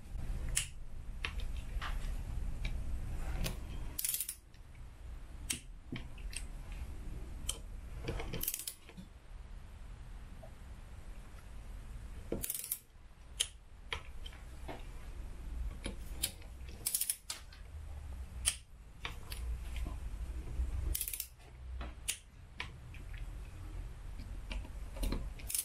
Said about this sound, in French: Et là, on va faire notre serrage de 7 Nm.